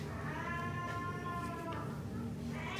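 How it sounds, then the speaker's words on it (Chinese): An angry cat at a veterinary clinic lets out a long, drawn-out wailing meow that rises and falls over about two seconds, then a shorter cry, heard at moderate distance over steady room noise. "那边也有猫咪，好像生气了"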